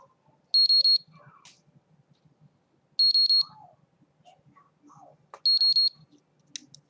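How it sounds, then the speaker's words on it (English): A high electronic alarm from a personal safety bracelet beeps in three rapid pulses, repeating three times at regular intervals, with faint rustling between bursts. "the alarm will sound"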